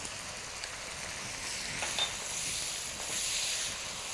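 Garlic and red chili peppers sizzle in a hot pan, a steady soft crackle and hiss with faint stirring, heard alone at low volume.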